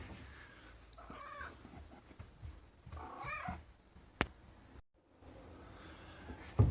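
A cat makes soft, quiet meows and murmurs at close range, with a sharp tap partway through and a brief moment of silence.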